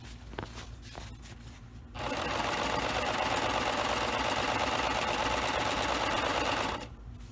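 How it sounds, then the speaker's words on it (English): A serger overlock machine stitches around the edge of an ironing board cover, starting abruptly in a steady, rapid mechanical whir that runs loud and close for about five seconds before stopping. "Now I've serged all the way around my ironing board cover"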